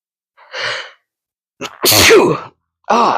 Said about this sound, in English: I'm fixing to sneeze.